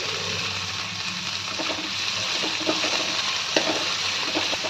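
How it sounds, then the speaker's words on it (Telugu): Tomatoes frying in oil in a pan, giving a steady loud sizzle with occasional stirring clicks and spatters throughout. "టమాటాలు కూడా మంచిగా నూనెలో వేయించుకోవాలి."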